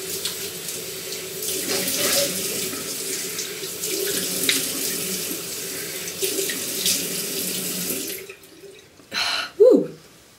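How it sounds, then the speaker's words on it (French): Tap water runs steadily into a sink while someone rinses their face, a continuous splashing flow that stops near the end and gives way to a couple of brief, closer splashes. "Donc là encore une fois on se rince le visage."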